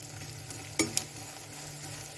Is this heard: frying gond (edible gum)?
yes